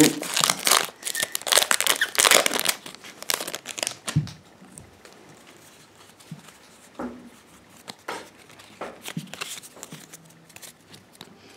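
A Pokémon card booster pack wrapper is torn and crinkled open up close, a burst of loud crackling foil followed by sparser rustles and handling of the cards.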